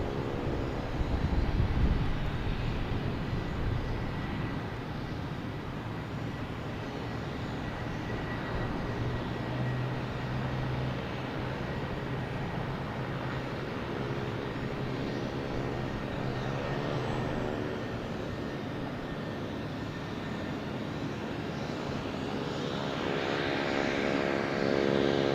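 A Boutique Air propeller plane runs up its engines at Boston Logan Airport: a loud, steady prop drone that holds for the whole stretch, with a faint low rumble underneath and no voices.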